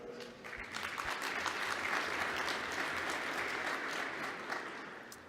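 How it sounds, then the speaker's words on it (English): A conference audience at a technical talk on the seL4 operating system breaks into steady applause, a dense wash of clapping that swells and holds for several seconds before starting to taper, heard with no speech. "let's welcome Ihor with a round of applause"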